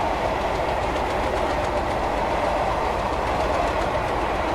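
A Class 37 diesel locomotive thrashing under power in a Roblox railtour simulation, a steady loud engine drone with rolling rail noise heard from the front coach, continuous and without pauses.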